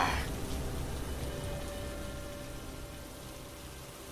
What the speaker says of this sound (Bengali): তখনও সমানভাবে বৃষ্টি ঝরছে আর ঝরছেই